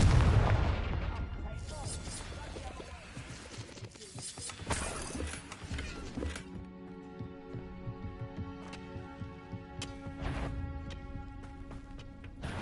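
Confringo blasting spells explode in Hogwarts Legacy, a fantasy video game: a cluster of heavy booming blasts and crackling bursts in the opening seconds, then quieter scattered impacts over a sustained musical score.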